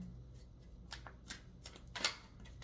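Tarot cards being shuffled up close, a few quick riffling bursts separated by soft pauses, fairly quiet with no talking.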